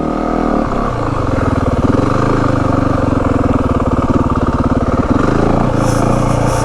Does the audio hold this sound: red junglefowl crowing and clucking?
no